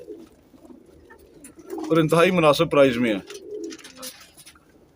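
A group of about thirty-five flying pigeons kept for sale in Pakistan coo softly in low, throaty burrs before and after someone speaks in Urdu/Hindi.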